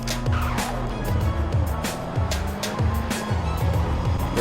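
Infiniti G35 engine revving hard during a 0 to 100 run in the Roblox Greenville game, a loud, continuous engine roar with repeated rising gear pulls and tire squeal, close and steady throughout.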